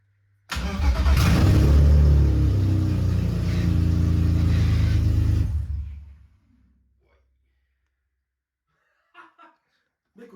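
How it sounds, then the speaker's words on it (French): A BMW E30 drift car engine cranks and roars loudly for about five seconds, then cuts out and dies away. Brief faint voices come afterward. "Démarrage. Enfin, tentative de démarrage."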